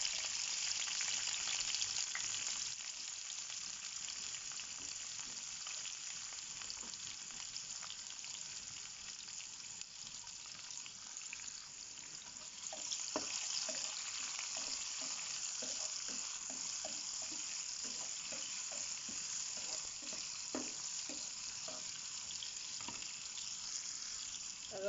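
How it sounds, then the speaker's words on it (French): Onions fry in a little oil in a pan, a steady bright sizzle running continuously, joined partway through by clinks and scrapes of stirring, close and fairly quiet with no talking. "dans une poêle, donc vous allez mettre un peu d'huile. On va faire revenir les oignons."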